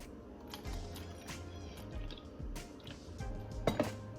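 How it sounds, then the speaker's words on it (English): An egg is whisked in a bowl for fried chicken batter, giving soft, wet, irregular clicking and sloshing strokes at close range with no talking. "So in here we have 1 egg. I'm gonna whisk that."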